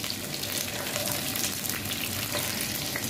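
Chicken frying in a pot for yakhni pulao gives off a dense, continuous sizzle that stays loud and even throughout, with no talk.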